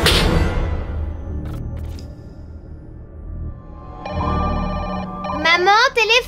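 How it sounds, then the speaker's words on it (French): A telephone rings in a home amid voices and swooshing sounds, with a loud electronic ringing pattern arriving near the end over speech. "Maman, téléphone!"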